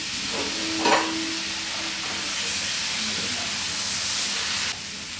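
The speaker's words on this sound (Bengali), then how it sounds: "এবার আলুটাও সঙ্গে দিয়ে দেবো, ভাজা ভাজা হবে।" Potatoes frying with turmeric in a pan of hot oil for a Bengali mutton curry give a steady, close sizzle and hiss, with a brief clatter of stirring near the start and no voices.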